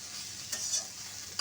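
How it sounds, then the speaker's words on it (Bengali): A spoon stirs spicy dry okra and potatoes in a pan, giving a faint, brief scrape and soft sizzle with a couple of light clinks. "আবারও নাড়াচাড়া করে নেব।"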